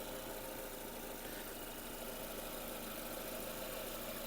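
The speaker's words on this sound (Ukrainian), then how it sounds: "Двигун працює чітко" A 2008 Renault Megane engine idles steadily with a dense, even mechanical hum and a faint knocking rhythm, close and continuous with no talk.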